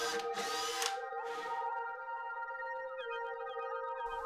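A power drill whines at high speed, spinning up in short bursts and then running steadily while pre-drilling a hole in wood for screws, close by and fairly quiet.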